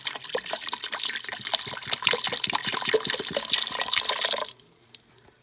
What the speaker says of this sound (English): we'll go ahead and pour that in the pot